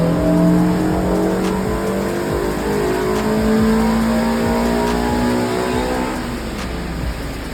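A modified car engine with its rev limiter raised to just over 7,500 rpm, revving hard and screaming through rising and falling sweeps, loud and close with no talking.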